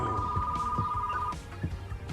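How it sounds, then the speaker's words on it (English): A telephone rings in the Retro Rewind video game, a steady electronic tone lasting over a second amid background game music and soft thumps. "Oh, phone's ringing."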